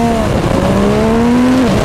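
An MV Agusta Superveloce 800 motorcycle pulling away under launch control, its engine note rising steadily in pitch as it accelerates hard, loud and continuous and close by, with no talk.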